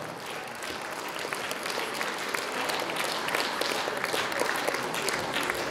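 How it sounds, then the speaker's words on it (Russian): Steady, dense applause from a concert audience after a children's ensemble performance in Molodechno, a continuous wash of many hands clapping at moderate distance with no talk. "Я понимаю, что чем ближе к концу концерта, тем аплодисменты все меньше."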